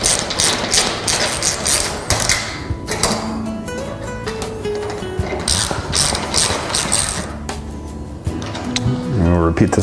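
Screws being tightened with a ratchet on a rail of a Tilt-Away Murphy wall bed by EnJ Cabinets, giving repeated close clicking ratchet strokes in bursts with pauses, while a person talks over parts of it.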